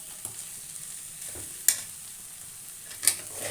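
Potato pieces and salt are stirred in a frying pan for a vegetable omelette, with soft scraping and a faint sizzle, broken by two sharper spoon clacks against the pan.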